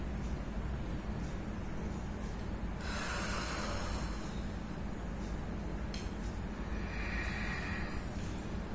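During a yoga breathing exercise, a person blows out forcefully through the mouth as if blowing out candles. A couple of airy exhales rise briefly over a steady low background hum.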